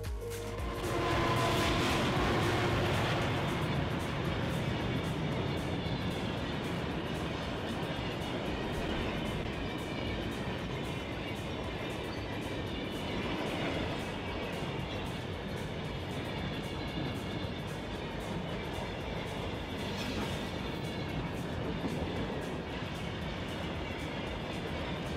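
Long iron ore freight train with carriages stretching 2.5 miles, running from desert to coast, rumbling steadily on rails with a continuous broad roar and faint clatter throughout, no voices.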